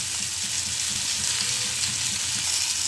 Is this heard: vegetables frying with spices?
yes